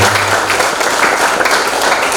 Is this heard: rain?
no